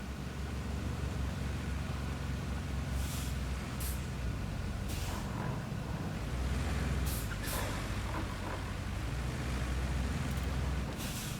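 In the Roadcraft video game, a heavy truck engine rumbles and roars without a break while sharp air brake hisses burst out several times, loud and close.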